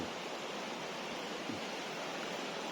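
Cool water flows steadily among large trees in a forest, a continuous, even rushing that stays close and unbroken with no voices over it.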